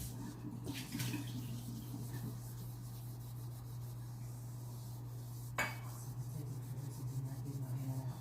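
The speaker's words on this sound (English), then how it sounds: "And then we're going to rinse them in warm water and dry them off." Stainless steel cookware, including a skillet, is rinsed under warm running water, giving a low steady hum and a faint continuous trickle with occasional metallic clinks and rubbing, quiet and close.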